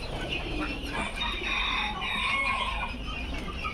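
Several Aseel chickens cluck and murmur close by on a farm, overlapping soft calls over a steady background hum, with no speech.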